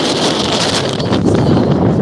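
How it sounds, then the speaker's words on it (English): Strong gusty wind buffets a microphone outdoors by a boat in Coos Bay, Oregon, a loud continuous roaring rumble with no talk. "God, it's windy."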